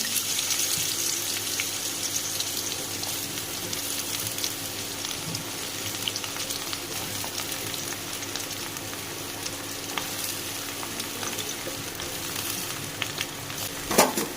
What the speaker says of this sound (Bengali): এবার ওই তেলের মধ্যেই দিয়ে দেব সমস্ত সবজি।